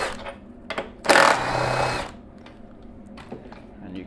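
Power tool whirring for about a second while two bolts come off the front seat of a Royal Alloy GP350 scooter. It follows a few soft knocks and clicks, and quiet handling noises come after it.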